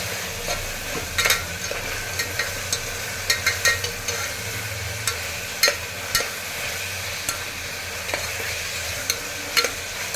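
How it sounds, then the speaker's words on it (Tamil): Ginger garlic paste sautéing in a pan, a continuous sizzle broken by repeated scraping strokes and spoon clinks from frequent stirring, close and clear with no speech. "இஞ்சி பூண்டு பேஸ்ட்டு பச்சை வாசனை போகிறதுக்காக ஒரு 1 மினிட் வதக்கிக்கலாம்"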